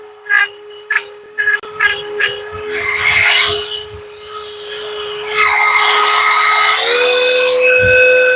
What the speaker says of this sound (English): Gotta figure out how to be able to hold my Dremel though.